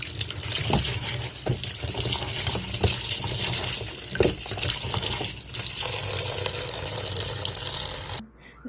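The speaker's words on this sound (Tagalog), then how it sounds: "hugasan ko na yung gulay" Vegetables being rinsed under running water, a steady splashing stream with small clinks and knocks throughout, close by, ending abruptly near the end.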